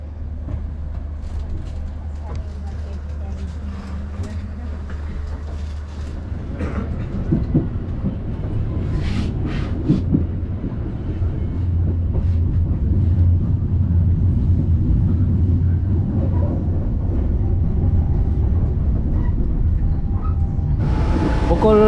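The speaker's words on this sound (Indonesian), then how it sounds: "kereta api Sri Tanjung sekarang ini sudah tiba di stasiun Sidoarjo" The Sri Tanjung passenger train rolls into Sidoarjo station with a low rumble and clattering wheels that grow louder and closer over time, while voices can be heard faintly in the background.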